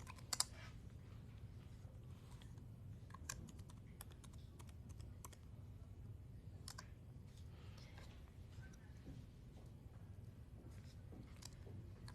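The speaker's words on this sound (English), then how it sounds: "let's just go ahead and type yes" Typing on a computer keyboard, a steady run of light clicks and key taps that continues for about twelve seconds, faint and close, with no talking.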